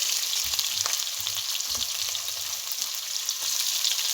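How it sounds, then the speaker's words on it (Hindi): Onions fry in the kadhai of an idli cooker, giving a steady, dense sizzle throughout with a few soft stirring knocks and no talking. "और इसके बाद इसमें डाल दिए प्याज।"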